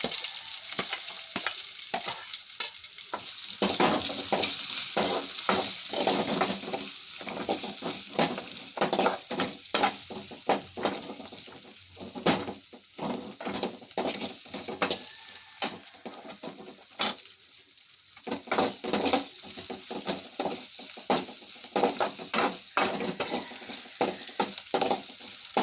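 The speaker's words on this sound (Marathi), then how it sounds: "आता आपण त्याच्यात कांदे घालूया" Onions and green chili fry in a pan for a Malvani-style beans bhaji, a continuous crackling sizzle with frequent scraping stirs of a spatula, close up and with no talking.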